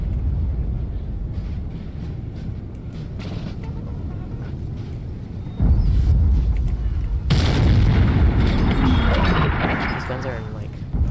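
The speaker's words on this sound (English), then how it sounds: "These guns are in like prime position to rip through this cav" Artillery booms roll across an 1814 battle in the Napoleon Total War 3 mod, with deep thuds and a heavy blast over a continuous rumbling battlefield din.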